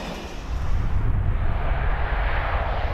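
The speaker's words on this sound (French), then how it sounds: "Dès le mois d'octobre 1981, c'est 40 rames qui rouleront ainsi inlassablement à 260 km/h" A French TGV high-speed train runs along the new line at around 260 km/h, a steady, loud rumbling roar that swells within the first half second and holds without break.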